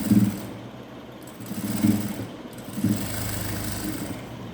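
A sewing machine stitching an extra seam of thread across fabric edged with piping and buttons, its motor running in short bursts and pausing between them, steady and fairly close, with no voices.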